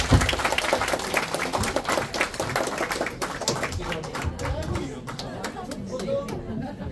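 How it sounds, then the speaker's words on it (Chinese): Applause from the audience at a Chinese speech club's committee inauguration ceremony, a dense patter of clapping mixed with crowd chatter that gradually thins out and softens. "我们鼓掌通过"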